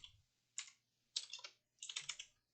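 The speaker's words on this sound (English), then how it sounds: "If I could type here, do this." Typing on a computer keyboard, three short bursts of crisp close key clicks separated by brief pauses, quiet and alone.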